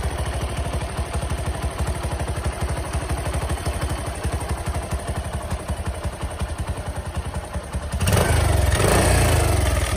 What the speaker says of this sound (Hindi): इंजन साउंड भी देख सकते हो बिल्कुल नॉर्मल है